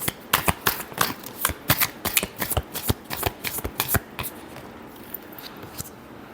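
Tarot cards being shuffled in quick, crisp riffling bursts, a dense run of sharp flicks for about four seconds before tapering into a few softer scattered slaps, close to the listener.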